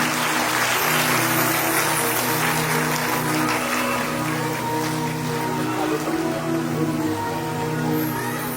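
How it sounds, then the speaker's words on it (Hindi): Enthusiastic applause from a devotional discourse audience welcoming visitors from Pune, a dense steady wash of clapping that fills the whole stretch without letting up, with faint talk murmuring underneath. "जोरदार तालियों के साथ"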